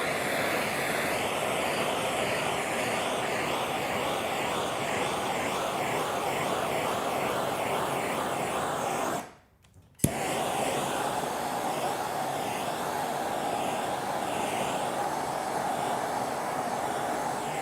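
A propane torch roars steadily while heat-shrinking wrap over a windshield, a loud continuous hissing blast with wavering tone that cuts out for a moment and then relights with a sharp pop.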